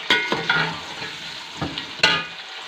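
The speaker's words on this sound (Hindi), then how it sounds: "अब साथ ही हमने गोभी इसके अंदर डाल के फ्राई करनी है।" Cauliflower frying in hot ghee with cumin seeds for aloo gobi, a steady close sizzle broken by a few sharp stirring scrapes and clatters, no voices.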